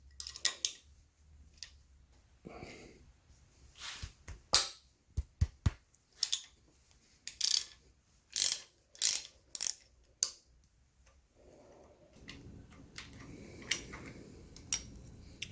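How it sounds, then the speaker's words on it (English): A hand ratchet clicks in short bursts while loosening the hold-down plate on a Pontiac V8 engine during teardown, sharp metallic pawl ticks with pauses, close and fairly quiet. "so I'm going to loosen up our hold down plate"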